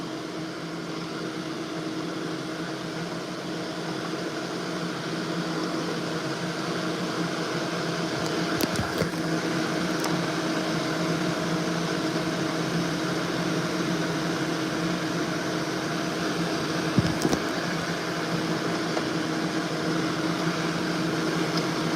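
A hooded hair dryer fitted with a skirt at its base runs with a steady, even whooshing hum of blown air, constant and moderately quiet, with a couple of faint clicks and no talking.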